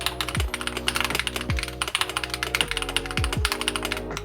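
Steady, fast typing on a Hall effect keyboard, crisp clacky keystrokes in quick continuous bursts, close and fairly loud, with no talking.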